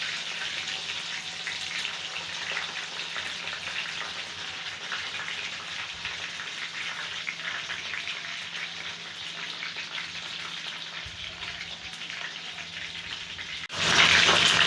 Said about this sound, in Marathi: वांगीसुद्धा आपल्याला तळून घ्यायची आहे. थोडी तळून घ्यायची म्हणजे ती टेस्टला छान लागतात.